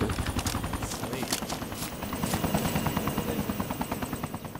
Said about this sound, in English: Oh, I hear the chopper.